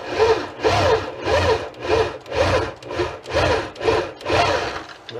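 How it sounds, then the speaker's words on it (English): Drill working through the metal roof of a car to fit an antenna mount, heard as close, loud rhythmic grinding strokes repeating about once per second, with no voices. "Now I'm drilling in the roof of the car."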